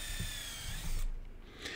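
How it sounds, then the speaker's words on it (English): A power drill fitted with a countersink bit pre-drills holes in wood for a kid-sized Adirondack-style rocking chair, a steady close whine with a busy low rumble that drops away halfway through the short burst. "So I just pre-drill both sides with a countersink."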